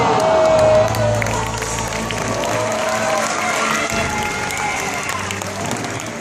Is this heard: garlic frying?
no